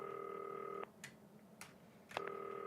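A telephone in the video game Not For Broadcast sounds a steady two-tone electronic ring that cuts off, followed by a few soft clicks and a new ring starting, faint and alone.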